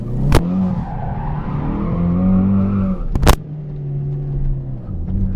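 A 4-cylinder Ford Mustang lapping a track, engine droning and shifting pitch up and down as it accelerates, with two sharp loud bursts breaking through the steady run.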